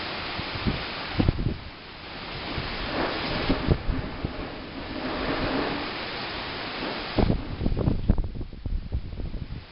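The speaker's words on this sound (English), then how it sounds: "that's a little bent in the roof. It's jiggling around from the wind" Hurricane wind drives rain and gusts against a house in Louisiana, with a bent piece of roof metal rattling and jiggling in irregular bursts amid the roar of the storm.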